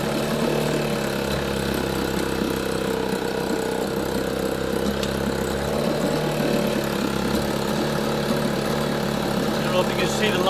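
A 1960 Evinrude 5.5 HP outboard engine runs continuously while misfiring and not firing on both cylinders, a loud, steady droning hum close by, with a person talking over it.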